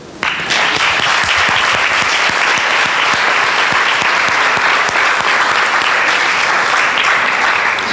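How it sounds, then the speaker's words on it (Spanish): Audience applause fills a seminar hall at a marketing conference, a dense, steady wash of many hands clapping that starts abruptly and stays loud and even for the whole stretch, with no voices over it. "¿vamos a darle un aplauso?"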